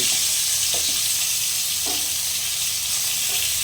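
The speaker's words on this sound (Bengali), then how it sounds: "এইভাবে একটু ভালোভাবে ভেজে নিতে হবে লাল করে।" Potato and pointed gourd fry in hot oil with salt and turmeric, giving a dense, steady sizzle that stays loud and even, with a few faint soft knocks underneath.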